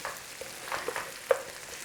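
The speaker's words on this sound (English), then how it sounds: "In with your onions. Little sizzle whizzle on there." Soft, steady sizzling of onions frying in a pan, with a few faint clicks and stirs; quiet and close, no voices.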